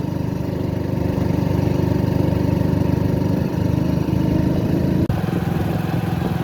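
A motorcycle engine drones steadily and loudly throughout while riding, a continuous close hum with a brief dip and a sharp knock near the end, no talk.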